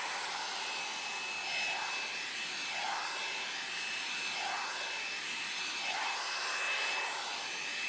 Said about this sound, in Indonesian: Ini namanya sisir hair dryer.